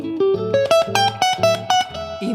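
An electric guitar picks a quick run of A Mixolydian notes, about eight evenly spaced tones climbing then settling, close and clear with nothing else heard.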